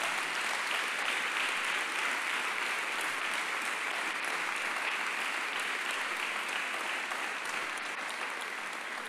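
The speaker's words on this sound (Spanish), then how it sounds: "¿Por qué no le hacen un fuerte aplauso a Jesús por todo esto?" A crowd applauds loudly and steadily, dense clapping filling the whole stretch without pause.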